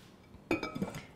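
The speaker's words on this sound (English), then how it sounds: "put your tagine cover on." A ceramic tagine lid set onto its pot while couscous steeps in boiling water, giving a short clink and a few light rattling knocks in a quiet kitchen.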